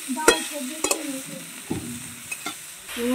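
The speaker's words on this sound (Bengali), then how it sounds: "দিয়ে আদাটাকেও ভালোভাবে ওলকপির সঙ্গে আমি ভেজে নেব মিনিট খানেকের মতো।" Ginger paste frying with kohlrabi and green chillies in a pan, a spatula scraping and stirring in a few distinct strokes over a low, steady sizzle, close and moderately loud, with no talking.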